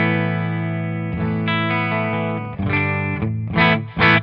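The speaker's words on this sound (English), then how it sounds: "So middle position, here's my clean tone." A clean electric guitar on its middle pickup position, with faux tape echo: a sustained, ringing chord followed by several fresh strums and a couple of louder, bright chord hits near the end, repeats trailing behind each one.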